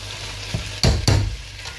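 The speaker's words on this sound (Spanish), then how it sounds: "subimos el fuego, vamos a mezclar, subimos el fuego hasta que evapore lo que es el alcohol" Meatballs in Andalusian sauce, with half a glass of alcohol added, being stirred in a pan over raised heat. A soft sizzle runs underneath two sharp scraping stirs close up, with no talking.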